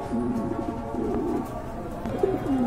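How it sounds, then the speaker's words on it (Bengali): Mundian pigeons coo nearby in repeated soft, throaty rolling calls against a faint background murmur. "এই যে দেখেন খুবই কোয়ালিটিফুল কবুতর।"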